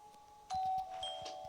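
Doorbell ringing in the video game Schoolboy Runaway, a soft electronic two-tone chime sounding once, heard alone at low volume.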